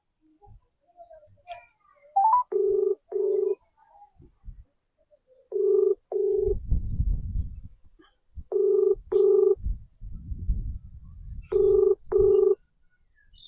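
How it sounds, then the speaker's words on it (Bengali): Telephone call in progress: short bursts of keypad dialing tones, then repeated paired ringback tones in a steady on-off rhythm, clear and close, with faint speech and low rumbling noise between the rings. "দ্বিতীয় ব্যক্তির কাছে আমি আরো একবার ফোন করব"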